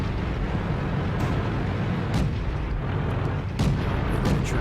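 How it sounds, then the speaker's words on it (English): Destructible scenery blowing up in the World of Tanks game on PC, dense rumbling battle noise with several sharp blasts standing out, loud and continuous, no talking. "Oh, we can explode stuff in this one. Awesome. The environment blows up."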